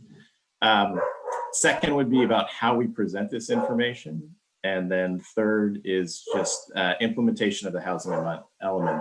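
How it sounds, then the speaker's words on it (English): A dog barks now and then in the background while someone talks steadily and close up. "You can probably hear my dog in the background there."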